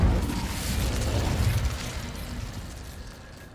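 A fire spell is cast in a fantasy wizarding video game: a loud whooshing burst of flame roars up at once, then sustains and slowly fades over a few seconds, with no voices.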